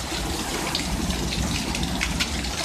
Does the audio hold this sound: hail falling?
yes